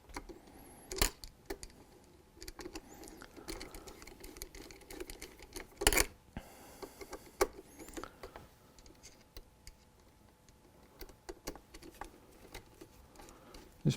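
Side screws of a scope mount being tightened on a Sako 100 rifle, faint close metallic clicks and taps scattered irregularly over quiet handling noise.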